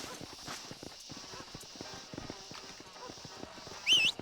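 Horse hooves clip-clop at a steady walking rhythm in the Western video game Red Dead Redemption, moderately close, with a brief high whinny-like squeal near the end; no talk.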